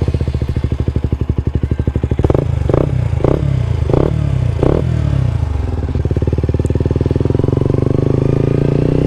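A KTM RC 125 sport motorcycle's small single-cylinder engine pulses steadily while riding, with a rougher, clattering stretch midway before the smooth, rapid firing returns.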